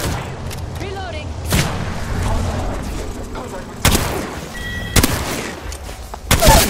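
Gunfire in the Apex Legends video game: sharp loud shots and bursts at irregular intervals, several heavy booming hits standing out, over a busy background of game noise and a speaking voice.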